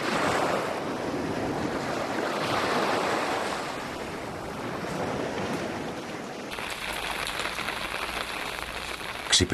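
Steady rain falls outdoors in Konistra beneath the mountains of Euboea, a dense continuous hiss with a slight shift in texture partway through and no voices.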